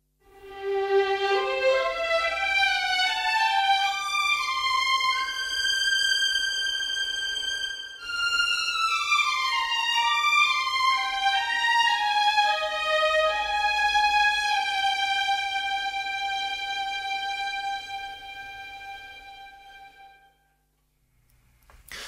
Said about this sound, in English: So if just the violins one patch, the legato articulation sounds like this.